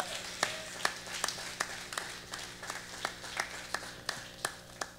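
A church congregation at an Apostolic assembly in Brigham applauds steadily, with sharp overlapping claps in a loose rhythm over a room murmur, fairly close and moderately loud throughout.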